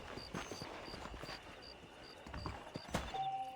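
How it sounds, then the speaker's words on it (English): Horse in the Red Dead Redemption video game, its hooves clip-clopping in a steady rhythm at moderate distance, with faint ambient game sounds and a brief sharp accent near the end. "Night, horsey."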